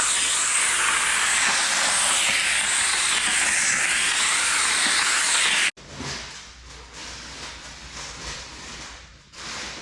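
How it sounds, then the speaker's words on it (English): Steady, loud hissing of a steamer working car window tint loose, running continuously for about six seconds before cutting off abruptly to a quieter background. "I'm gonna go ahead and go back to steaming so we can get this thing off nice and clean"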